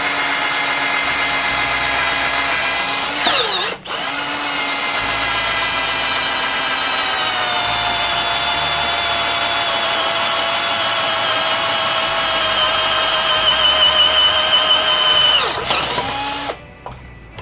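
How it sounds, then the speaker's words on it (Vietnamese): A hand drill bores a 6 mm hole through the plastic headlight housing of a Honda Winner motorcycle, whining with a rich harmonic motor tone for about fifteen seconds, with a brief stop and restart early on before spinning down at the end. "Bây giờ mình sẽ chuyển qua chế độ khoan tay."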